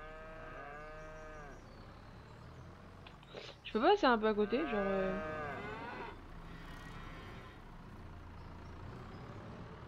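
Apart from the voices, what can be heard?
cows mooing in a field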